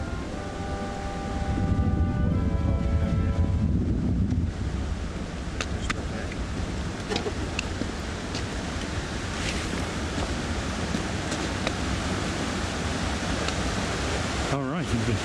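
Rushing water from a waterfall in snowy mountain wilderness in the Ansel Adams Wilderness, a continuous broad roar holding steady throughout, mixed with wind buffeting the microphone and a few brief voices near the start.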